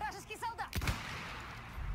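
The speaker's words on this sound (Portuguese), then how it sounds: "A gente tenta dar uns tiros mais ousados" A single loud, close burst of Battlefield 1 gunfire cracks out mid-moment, with a sharp report and rumbling tail. Speech is heard before it, and low game ambience continues after.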